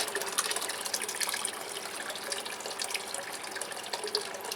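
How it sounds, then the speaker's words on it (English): Hot water from a kettle pours and splashes into a container of cold tap water meant for watering houseplants, a steady gushing stream that runs close and fairly loud throughout with no talk. "put some boiling water"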